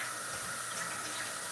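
Potatoes rinsed under a running kitchen tap, giving a steady, close hiss of flowing water with no pauses.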